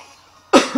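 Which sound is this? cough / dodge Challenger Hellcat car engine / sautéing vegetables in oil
cough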